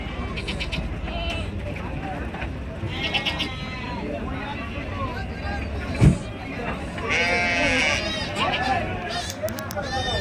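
Several goats bleat repeatedly at an outdoor goat market, some near and loud, others farther off, over a background of people talking and general bustle.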